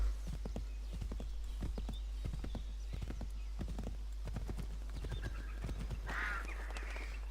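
Rhythmic horse hoofbeats in Assassin's Creed III clatter in a steady galloping pattern, fairly quiet and even, with a brief horse whinny near the end.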